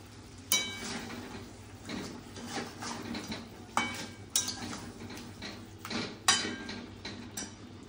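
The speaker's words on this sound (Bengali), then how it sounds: "আবারও ঢাকা দিয়ে দিচ্ছি।" A lid goes onto a home cooking pot of potatoes and chicken masala, giving several sharp metallic clatters and clinks spaced over several seconds. The sounds are fairly faint and close, with no talking.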